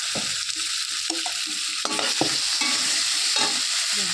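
Onion, garlic and tomato fry in a pan for papaya chicken as a spoon stirs them, with steady sizzling and repeated scraping strokes up close.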